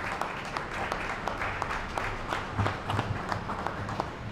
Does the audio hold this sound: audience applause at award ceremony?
yes